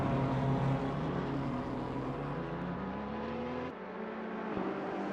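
A Porsche race car engine drones steadily in an endurance race at Mount Panorama, its pitch climbing as it revs before it drops sharply and builds again.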